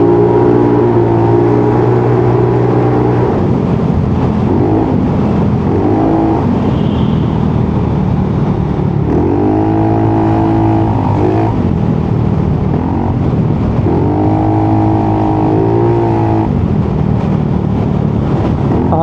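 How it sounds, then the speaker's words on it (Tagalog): An Italjet Dragster 300 scooter with an airbox delete and Malossi exhaust revs repeatedly, its engine note climbing and falling in several throttle blips over a steady idle, loud and close with no talking. "Iba talaga yung tunog nung throttle body pag naka airbox delete."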